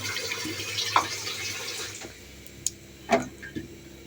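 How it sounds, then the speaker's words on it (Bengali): Water splashes and trickles into a pot of washed fish in short bursts, with a few clinks and knocks of cookware in a quiet kitchen. "একটু পানি দিয়ে দিলাম"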